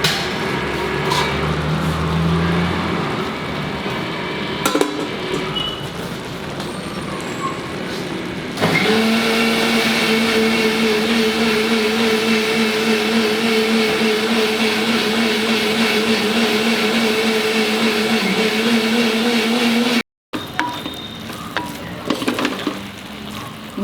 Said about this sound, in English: I have to still finish grinding the masala.